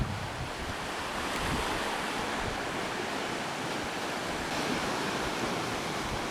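Ocean waves surge through the Point Arena sea arch on the coast, making a continuous broad roar of surf with heavy wind noise buffeting the microphone, steady and fairly loud, with no voices.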